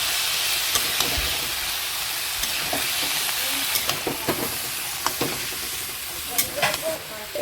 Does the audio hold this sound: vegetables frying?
yes